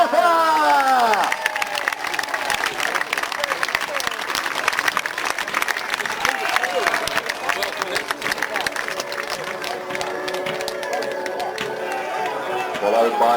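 Outdoor crowd at a history festival applauding and cheering after a parade of knights and a King Arthur procession, steady broadband clapping with a public-address announcer talking over it throughout.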